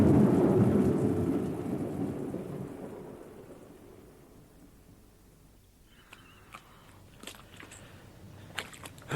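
Rain with rolling thunder in a radio drama set on the moor of The Hound of the Baskervilles, loud and rumbling at first, then fading to a softer patter with scattered sharp drips and taps toward the end.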